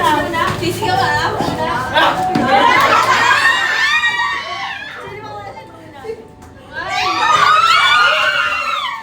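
Children shouting and screaming at a Christmas party, loud overlapping excited voices in two surges with a brief quieter lull between, crowd chatter around them.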